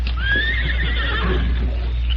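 In a radio drama a horse gives a single loud, drawn-out whinny with wavering pitch, set over a low steady hum.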